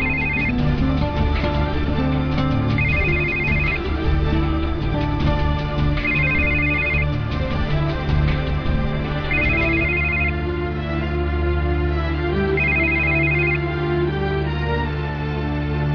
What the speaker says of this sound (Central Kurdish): تەلەفۆنەکەت وەڵامدەوە